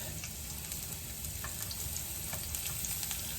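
Onions and red pepper sizzle in olive oil in a pan, a continuous soft frying crackle with occasional sharper pops and faint stirring.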